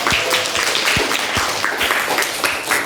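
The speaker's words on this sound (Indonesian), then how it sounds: "beri aplaus dulu untuk teman-teman kelompok" Classroom applause for a student group, a crowd of hands clapping in quick, uneven bursts, close and fairly loud, lasting the whole moment.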